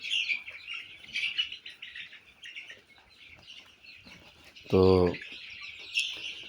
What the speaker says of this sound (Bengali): আমার এখানে 500 মুরগি রয়েছে